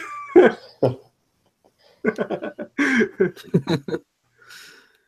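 Several sharp coughs near the start, then after a pause a quick run of harsh, repeated coughs close to the mic, fading into a breathy exhale.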